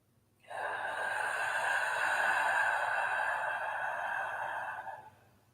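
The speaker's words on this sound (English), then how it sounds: "So we're going to breathe in, and it's going to sound like this." A slow, deep in-breath for relaxation, one long steady rushing inhale lasting about four and a half seconds, close and clear with no talking.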